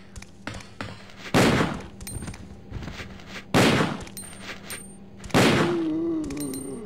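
Three heavy, booming magnum shots in a Resident Evil lab area, spaced about two seconds apart, each loud and close with a ringing decay, over quieter background ticks and clatter.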